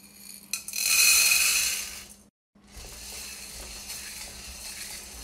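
Corn kernels drop into a hot kadai over a low-medium flame with a bright clattering sizzle that fades, then a short silence before quieter rustling and faint ticking of kernels in the pan.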